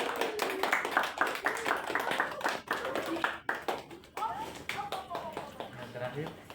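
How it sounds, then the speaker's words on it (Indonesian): Audience clapping hands at a gathering, a loose, uneven run of close, distinct claps that thins toward the end, with voices talking over it. "Tepuk tangan ya."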